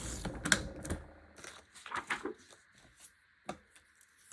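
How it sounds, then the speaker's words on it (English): Paper being cut with a pinking blade on a scrapbooking trimmer, giving a string of close, sharp clacks and short crunchy strokes in irregular bursts, with no voices. "I'm just going to cut with my pinking blade"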